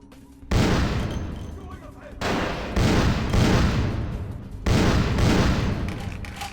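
Heavy gunfire blasts in bursts from the Vampire: The Masquerade - Bloodlines video game, three loud booming volleys with reverberant tails, close and dominating the mix.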